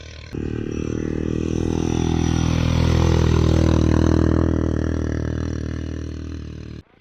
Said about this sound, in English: Dad's using a wire panel on the four-wheeler to drag around and kind of sift out some of the bigger dirt clods